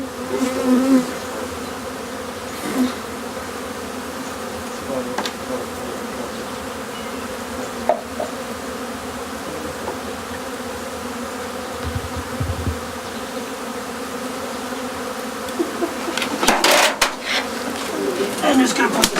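Honey bees buzz around an open hive in a dense, continuous drone that holds throughout, with a few soft bird coos and brief rustles nearby.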